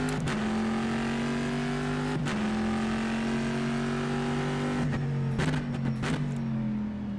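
A Corvette race car in the rFactor 2 racing game drones at steady high revs, with several abrupt gearshift breaks and downshift blips, loud and continuous throughout.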